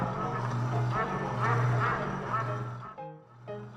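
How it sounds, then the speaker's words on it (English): A duck quacks in a rapid, continuous run of nasal calls, loud and close, then breaks off into a couple of shorter separate quacks. "Duck, quacking sound."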